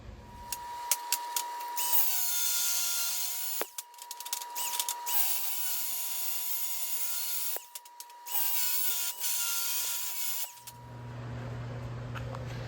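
A power tool cutting bolts off during beach racing bumper fabrication, loud high whining bursts with brief stops between cuts, then the tool spinning down at the end.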